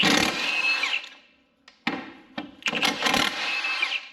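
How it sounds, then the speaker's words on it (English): Power tool whirring and clattering while removing two bolts from the rear suspension of a Subaru Forester, loud close bursts of buzzing with a short pause and sharp knocks in between. "what I do is go ahead and remove the two bolts back here"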